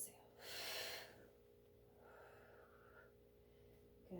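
A single strong breath rushes out during a Pilates workout, loud and close, followed by quieter breathing over a low hum.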